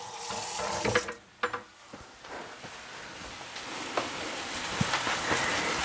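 Water runs from a kitchen tap over something being rinsed in the sink, a steady splashing stream broken by a few brief knocks and handling sounds, close and fairly quiet.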